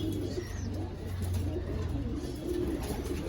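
Sakdum pigeons coo in a loft, soft repeated low throaty coos near the listener over faint background chirps, with no voices.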